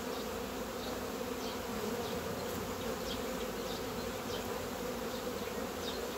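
A dense, steady drone of honeybees buzzing from an opened beehive colony, close and continuous, with no voices over it.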